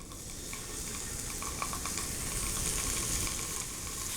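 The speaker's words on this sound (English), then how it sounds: "Once the pan is hot enough, we will add the fish skewer." Balinese fish sate skewers sizzle steadily in a hot pan with coconut oil, a loud, continuous close-up frying hiss with small pops and crackles.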